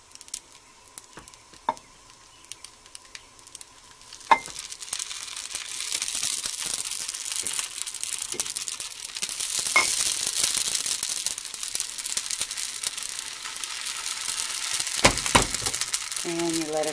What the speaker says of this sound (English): And you let it cook until it gets browned on one side